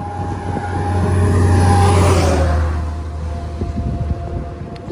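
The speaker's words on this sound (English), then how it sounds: "Sorry for the road noise." Road traffic on a road walk into Fayetteville, Pennsylvania: a car passes nearby, swelling to a broad whoosh and fading, over a steady low rumble.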